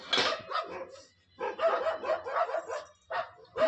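Dogs outside scuffle with pigs, barking and yelping in quick, loud, close bursts with short pauses between.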